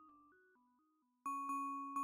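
A VCV Rack synth voice in modal resonator mode plays a few soft stepped tones. Then come several sharp, bright metallic strikes that ring out, heard alone with no voices.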